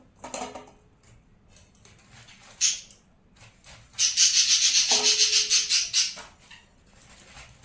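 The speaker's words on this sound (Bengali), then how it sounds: "করলাটাকে কেটে নিচ্ছি" A knife cuts through bitter gourd lengthwise into quarters, giving dry scraping and rubbing strokes up close, with one longer steady stretch of slicing amid brief scrapes and pauses.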